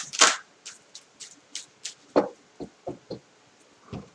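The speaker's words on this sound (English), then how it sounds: "Let's get you some advice cards here." Advice cards being shuffled for a reading, a series of short, crisp riffles and taps, about a dozen separate bursts heard close and alone with no talking.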